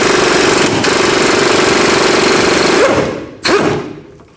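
A pneumatic impact tool hammers rapidly and loudly up close while loosening the 21 millimeter nut on a 2007 Chevy Silverado 1500 rear shock, rattling for about three seconds, stopping, then giving one more short burst.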